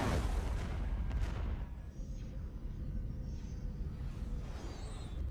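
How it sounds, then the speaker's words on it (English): Ion cannon fire in the Star Wars strategy game Thrawn's Revenge: a loud booming blast with rumbling artillery-like reports at the start, followed by a steady low rumble with faint electronic zaps on top. "Ion cannon firing."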